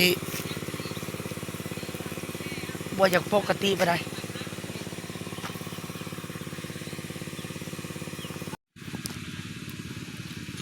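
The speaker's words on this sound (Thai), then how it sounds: "ยังซ้อมแซมรถไถอยู่รถไถ" A small hand tractor engine chugs steadily throughout with a low mechanical drone during rice planting, while a person talks briefly over it; the engine cuts out for a moment near the end.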